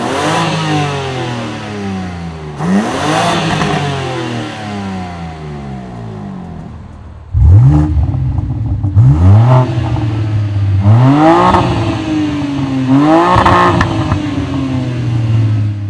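A BMW G87 M2 is revved first on its stock exhaust, then again after a Remus exhaust with titanium inners is fitted: two revs, then a louder, deeper set of about four sharp throttle blips with engine tone rising and falling.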